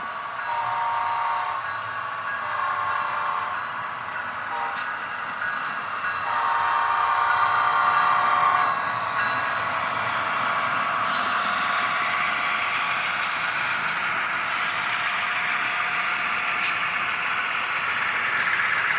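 A model train in HO scale rumbles past with a steady, heavy roar of rolling cars that swells slightly midway and holds on, no voices.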